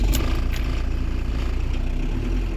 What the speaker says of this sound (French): on va faire déjà préchauffer le moteur